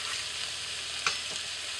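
Butter sizzling and frying steadily in a pan in a tiny house kitchen while eggs Benedict is cooked, a close, continuous crackle with one brief sharper spit partway through.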